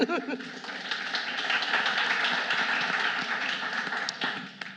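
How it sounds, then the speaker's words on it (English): An audience applauds panelists at a marketing career panel: a dense, continuous round of clapping that starts abruptly, holds steady for several seconds, and fades near the end. "Let's give them a round of applause, please."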